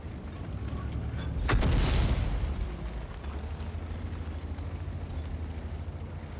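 Artillery fire in the World of Tanks video game: one heavy, booming shot lands near the start and rolls off into a decaying rumble, followed by a steady low engine drone.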